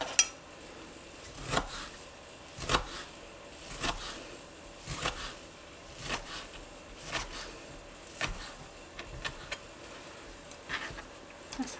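A knife chops seaweed on a board in a kitchen, with soft, fairly regular thuds about once a second, close and quiet, with no other sound around them.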